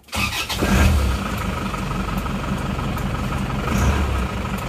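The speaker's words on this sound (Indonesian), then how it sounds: "kondisi mesin masih dingin ya belum panas kita dengarkan dulu suara mesinnya." A freshly rebuilt Isuzu Panther diesel engine idles cold just after starting, a steady low rumbling clatter heard close and alone, with no talk over it.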